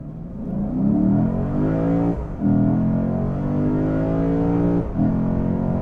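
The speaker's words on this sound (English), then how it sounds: "Put on the brake, torque brake to about 1500 RPM, go." A 2022 Lexus IS 500 F Sport Performance V8 launches hard from about 1500 RPM in eco mode, loud and close, with its engine note climbing steadily through two quick gear changes and no one speaking.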